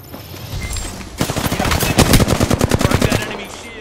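Automatic gunfire in a video game ripples out in rapid, loud bursts that build into a sustained stream of shots.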